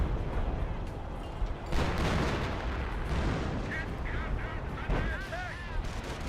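Artillery barrage pounding a base in the Company of Heroes strategy game, dense continuous rumbling blasts with a few sharp cracks, plus small squawking whistle-like calls near the end.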